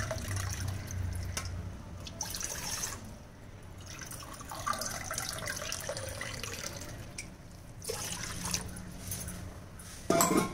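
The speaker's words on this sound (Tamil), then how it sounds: "ஸோ 200 ml டம்ளரில் 2 டம்ளர் தண்ணி ஊற்றிக்கிறேன்" Water poured from a 200 ml tumbler into a pot, two tumblerfuls, splashing and trickling steadily at close range with short pauses between pours.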